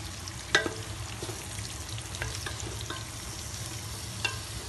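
Chopped onions sizzle steadily in a hot pan while being stirred for a Kerala-style crab roast, a constant frying hiss with occasional scraping spoon clicks close by.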